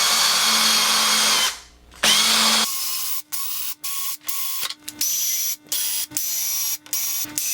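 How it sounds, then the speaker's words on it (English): Power drill spinning a wooden toy screwdriver clamped in a vise, a loud steady whine that cuts out briefly, resumes, then chops into rapid on-off bursts across several seconds, close and alone. "oftentimes I use them in my drill"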